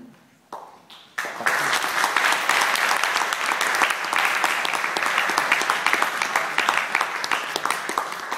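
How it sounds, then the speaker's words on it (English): A few scattered claps build quickly into steady, loud audience applause that continues evenly. "Start clapping."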